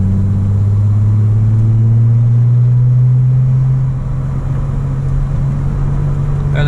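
Nissan 350Z driving along a road, its engine holding a steady, loud low drone with a slight rise in pitch, accompanied by continuous tyre and road rumble and no voices.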